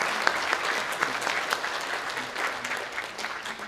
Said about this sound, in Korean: 우리 박수로 환영하도록 하겠습니다